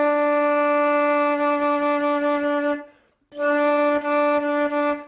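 A single sustained low D on a wind instrument, steady and loud for nearly three seconds, then after a brief silence the same note returns and holds to the end.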